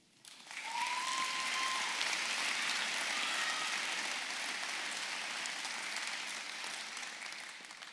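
Audience at a graduation ceremony breaks into sustained applause, a dense wash of clapping that starts quickly and holds steady for several seconds before easing slightly, with a brief tonal sound near the start.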